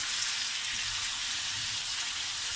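Meat frying in hot oil for homemade tacos, a steady close hiss of sizzling bubbles holding even loudness throughout with no talk.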